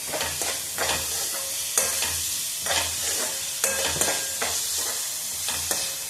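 Two medium finely chopped onions frying over full heat, a loud steady sizzle with repeated rhythmic spoon scrapes against the pan, close up and with no talk.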